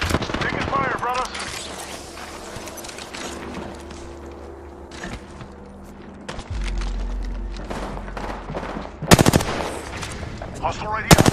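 Apex Legends gunfire, with machine-gun bursts and mechanical creaks mixed with game sounds and voices, building to loud, sharp volleys near the end.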